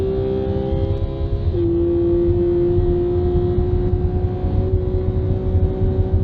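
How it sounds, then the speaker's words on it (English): A Porsche flat-six at high revs, heading toward 9,000 RPM, on track at Canadian Tire Motorsports Park. Its loud, sustained, tuneful wail holds steady, with a brief dip and shift in pitch early on, and no talk. "The flat six sings behind you, the power swells"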